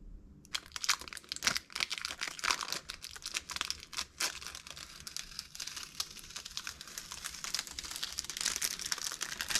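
Thin foil is crinkled and pressed onto the nose of a fishing lure being painted, a close, continuous dry crackling and rustling that runs on for several seconds without talk.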